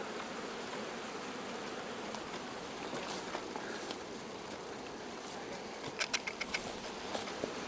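Honey bees foraging on phacelia flowers in the morning after light rain, a steady soft insect drone with faint scattered buzzes and small ticks, no talk.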